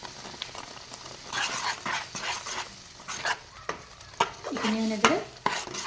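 Spices being stirred in a frying pan for an Assamese egg and tomato curry, giving a close scraping and sizzling with irregular spoon knocks, and a short spoken phrase partway through.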